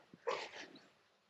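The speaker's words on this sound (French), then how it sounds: "t'arrêtes de crier d'aboyer sur les vaches, toi" A dog barks at cows in a rural field during a 4x4 road trip, giving a short, fairly faint burst of one or two yelping barks that fades out quickly.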